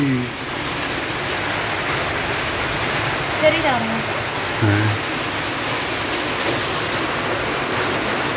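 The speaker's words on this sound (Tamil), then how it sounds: "பாத்தீங்களா மறுபடியும் மழை ஆரம்பிச்சிருச்சு" Rain falls steadily outdoors, a constant dense hiss with no breaks throughout, while faint voices murmur now and then underneath.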